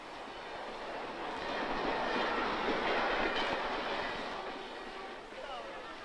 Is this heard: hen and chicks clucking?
no